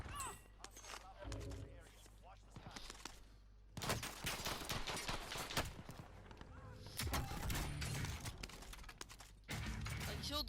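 Warzone video game firefight with Glock pistol shots and machine gun bursts, rapid crackling volleys in several clusters, moderately loud, with a voice talking over them.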